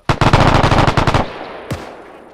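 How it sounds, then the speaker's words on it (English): A mounted machine gun fires in a World War II game set during Operation Market Garden: a loud, rapid burst of about a dozen close shots in quick rhythm, then a single later shot as the echo fades. "I'll set up this MG here."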